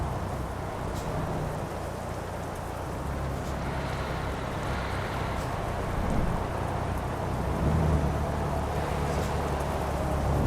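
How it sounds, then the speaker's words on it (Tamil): Rain pours steadily in Euro Truck Simulator 2, a constant hiss of drops hitting the surface mixed with a low vehicle rumble, swelling slightly toward the end, with no talk. "மழை வேற பெய்யுது கரெக்டான டைம்ல."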